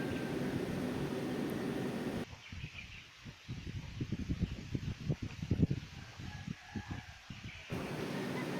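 Wind blowing across open countryside in Alamada, North Cotabato, buffeting the microphone in a rough, rumbling rush at the start and end, with nearby chickens and a rooster crowing during a calmer middle stretch.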